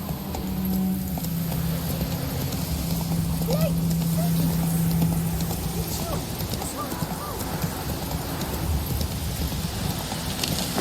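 Roach the horse galloping in The Witcher 3: Wild Hunt, a steady rapid clip-clop of hooves throughout, close and fairly loud, with ambient game sounds and brief voice snippets mixed in.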